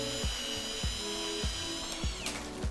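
A power drill running in reverse pulls rivets out of a computer case, giving a steady high motor whine with a rhythmic catch or clunk about every 0.6 seconds, fairly quiet and with no talk.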